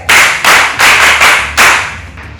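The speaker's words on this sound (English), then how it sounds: "Clap for her." An audience at a security-development media launch in Africa claps for a speaker in five loud, close, rhythmic bursts of unison clapping, with no voices over it.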